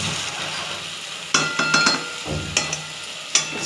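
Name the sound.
marinated chicken being sautéed with spices in a pan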